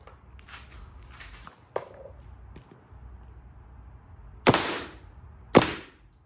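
Paintball marker firing over a chronograph, a G6R with a black Corrado poppet: two sharp, loud pops near the end, following a few softer clicks and handling knocks.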